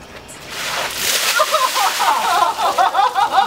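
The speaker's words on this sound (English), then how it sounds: "we're pouring ice water over our bodies to simulate that" Ice water is dumped over a person for the ALS ice bucket challenge: a loud splashing whoosh and slosh, then gasping, shrieking voices and excited reactions close by.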